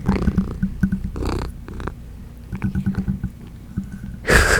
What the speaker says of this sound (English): I think you could hear her purring a little.